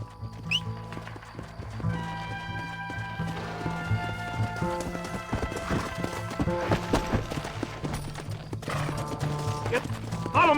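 Horses galloping in Red Dead Redemption, rapid clip-clop hoofbeats with occasional whinnies over a busy game soundscape and background music, close and continuous throughout.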